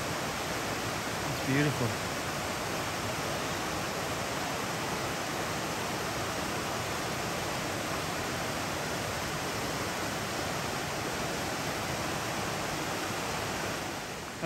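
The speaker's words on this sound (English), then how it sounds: "And there it is, guys. There's that cascade." Steady hiss of a waterfall cascade in the Great Smoky Mountains, an even, unbroken rush heard from a moderate distance, with a short spoken remark near the start.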